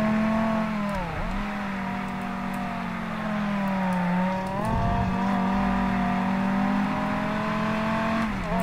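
A Dodge Viper SRT-10 Coupe engine in the racing game World Racing 2 at Laguna Seca, a loud continuous droning rev that dips and climbs with gear changes, with brief tyre squeals and no speech.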